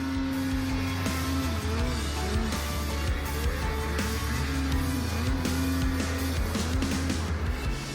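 A snowmobile rides through fresh snow, its engine revving and droning loudly nearby with rising and falling pitch as the throttle shifts.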